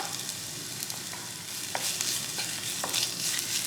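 Minced garlic and finely chopped jalapeno sizzling in oil for a Brazilian fish stew make a steady, fairly quiet hiss, broken by a few soft spatula taps and stirs.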